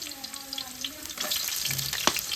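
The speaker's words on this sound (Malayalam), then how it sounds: "വെളിച്ചെണ്ണ ചൂടായി വരുമ്പോൾ നമ്മൾ നേരത്തെ വെളുത്തുള്ളി വേണം ആദ്യം ഇട്ട് കൊടുക്കാൻ" Garlic drops into hot coconut oil and crackles and sizzles in a pan, with brief spatters and a little kitchen clatter, fairly faint and close.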